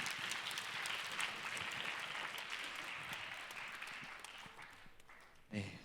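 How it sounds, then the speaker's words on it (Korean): Congregation applause after a closing prayer at a Korean church special lecture: steady, fairly faint clapping fills nearly the whole stretch, then fades near the end as a voice briefly cuts in. "우리 하나님께 감사의 박수 올려드리겠습니다."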